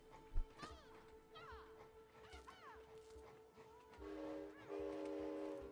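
A toy train horn honks in the video game It Takes Two during a wooden toy railway stage, sounding as sustained tonal blasts that start and stop several times over busy game sounds.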